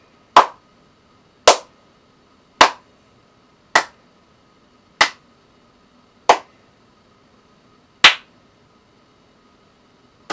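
A slow clap: eight single sharp claps spaced about a second apart, evenly paced and crisp against near silence, from a Fortnite emote setting.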